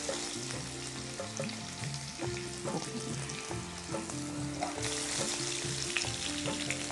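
Boiled drumstick pieces frying in a pan with a steady sizzle, punctuated by scraping and clattering as they are stirred, with faint music in the background.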